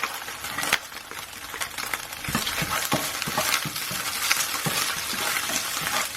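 Ginger sizzles in hot oil in a wok for a pepper beef stir-fry, a dense steady frying hiss broken by scraping stirs and clinks of a utensil, close and loud with no talk.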